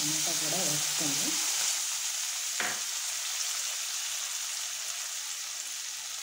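Sliced onions and tomato sizzling in a pan for perugu pachadi, a broad steady hiss throughout, with a short voice at the start and a single utensil tap partway through.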